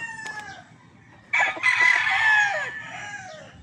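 A young stag rooster crows once, loud and close, a rising then sustained call lasting over a second, with softer earlier vocal fragments before it and faint background noise.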